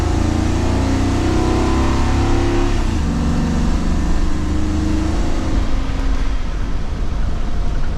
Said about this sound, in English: the engine is revving down for us